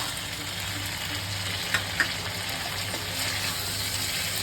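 Bay leaves and whole garam masala frying in oil with onions for a Bengali prawn malai curry, making an even crackling sizzle with a couple of sharp taps from a spoon against the pan.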